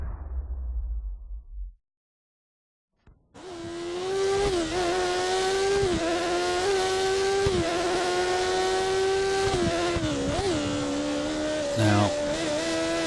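Formula 1 cars roaring around the Brands Hatch circuit in the F1 2013 racing game: after a short silence, a loud, high-pitched engine whine rises and shifts through gears, holding steady and close with occasional dips.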